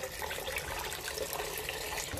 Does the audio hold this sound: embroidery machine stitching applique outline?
no